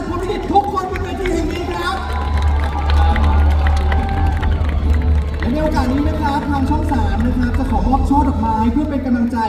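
A fan meeting audience for the Thai drama Prom Likit applauds and cheers, a sustained wash of clapping and shouts under a deep, steady music or PA hum, with voices rising and falling across the room.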